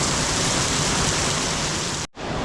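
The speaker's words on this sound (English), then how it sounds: "It's raining so much." Heavy rain pours onto a street in Macau as a dense, loud, unbroken hiss, cut off by a brief dropout near the end before resuming.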